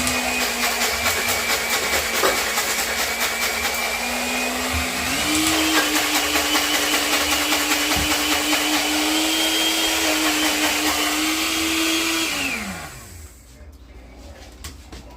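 An electric spice grinder whirs steadily, grinding spices as fine as possible for a rub on oven-baked spare ribs, running loud and continuous for about twelve seconds, rising slightly in pitch, then spinning down and stopping.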